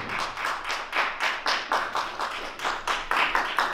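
Audience at a living-room concert clapping for a saxophone player: close, bright handclaps in a steady rhythmic pulse, several sharp beats each second, loud and without talk.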